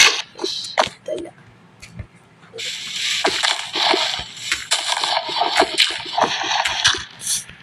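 Waterfall splashing in the Minecraft video game, a steady broadband rush of falling water that swells up and continues under intermittent speech and clicks.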